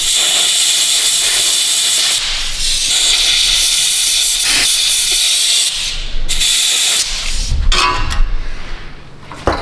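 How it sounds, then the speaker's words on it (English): A compressed-air blow nozzle hisses in long, steady blasts near a Ford Edge electric parking brake latch, with a few brief breaks before the final bursts turn choppy and uneven. "Let me get a blow nozzle."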